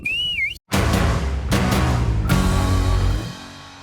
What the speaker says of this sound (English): blow the full-time whistle